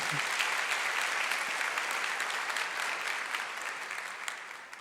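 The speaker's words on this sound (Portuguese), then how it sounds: "Então aplauda ao Senhor, glória a Deus." A church congregation claps together in sustained, even applause that fills the whole stretch and tapers slightly toward the end.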